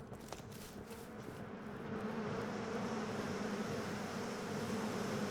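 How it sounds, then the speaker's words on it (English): Bees buzzing in the video game Pax Dei, a continuous droning hum that swells louder after a couple of seconds and stays steady and close, with no talking. "those bees, man"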